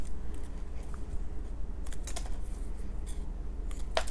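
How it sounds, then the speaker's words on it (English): Scissors snip through die-cut paper corners in a series of short, crisp clicks, several clustered close together near the microphone, over a low steady hum with no talking. "then you would just take your scissors and you would just snip"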